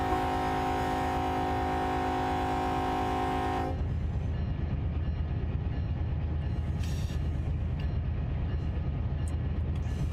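A loaded unit train bound for Trona runs past, its horn blaring steadily in stacked tones for about four seconds before cutting off, leaving the rolling rumble and rail noise of the cars continuing close by.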